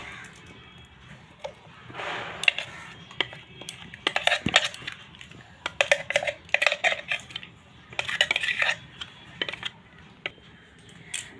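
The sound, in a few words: pouring lentil (dal) paste into a bowl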